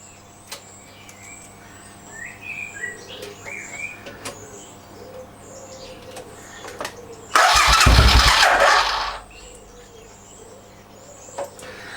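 A Suzuki Intruder VS700 motorcycle is cranked by its starter, giving a loud burst of about two seconds that does not catch, with birds chirping outdoors before and after.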